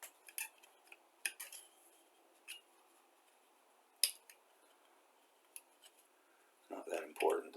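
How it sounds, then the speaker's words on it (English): Sharp, brief snips and clicks of a new hobby knife blade trimming soft plastic parts for a 1/32 scale Revell Mack R-Model truck kit, scattered in quiet close-up with a busier scraping cluster at the end. "There's a brand new blade. She's just slicing real good."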